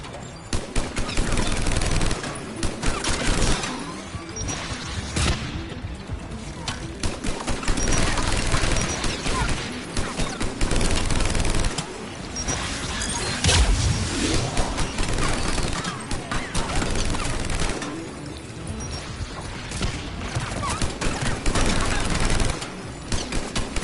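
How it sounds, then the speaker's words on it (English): Sustained bursts of mounted turret fire in the video game Mass Effect 3, rapid and loud, hammering on almost without pause with brief gaps between volleys. "Mounted turret."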